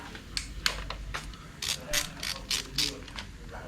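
A hand ratchet clicks in short repeated bursts while turning a starter motor bolt on a BMW S1000RR motorcycle, fairly close and moderately loud, with brief pauses between strokes and no talking.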